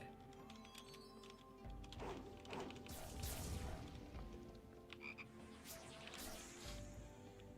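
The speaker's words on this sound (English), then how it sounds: "Why did the glowing ball make a frog sound?" Frog croak effect triggered by a glowing ball in a video game, a rough, rattling croak sequence lasting several seconds with clattering mechanical bursts layered over faint background music.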